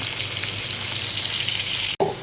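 Fish set into a hot pan sizzles and fries steadily, a continuous bright hiss with a brief dropout near the end, heard close up in a home kitchen with no talking.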